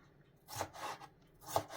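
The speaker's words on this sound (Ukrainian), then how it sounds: "Огірочок теж на кубочок" Cucumber being diced into small cubes on a cutting board for okroshka: a few soft, isolated knife chops with quiet gaps between them, faint and close.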